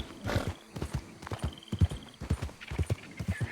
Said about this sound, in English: My horse is making all sorts of nervous noises.